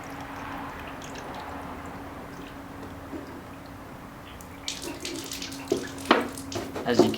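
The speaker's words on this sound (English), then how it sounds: "taking your distilled water, we're gonna pour it down the radiator" Distilled water is poured into a car radiator, a steady low trickling wash that turns into louder splashing and gurgling spurts toward the end, close up with no talk.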